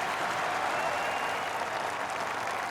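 Golf gallery at a PGA Tour event applauding a shot on a par-3 17th hole, a dense, steady wash of clapping from a large crowd, loud and sustained throughout.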